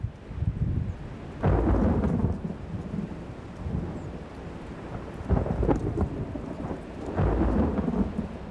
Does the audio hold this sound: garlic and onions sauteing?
no